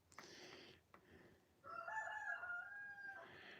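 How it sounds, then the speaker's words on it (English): A rooster crows outdoors at night, one drawn-out cock-a-doodle-doo that is faint and distant against a quiet background, preceded by a few soft indistinct sounds. "the rooster's out there crowing like crazy"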